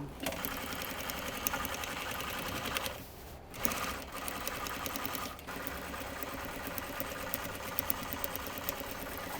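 A sewing machine runs continuous rows of stitching on a jeans waistband while a tailor takes it in and replaces stitching before attaching a belt loop; the steady mechanical whir breaks briefly twice, without speech.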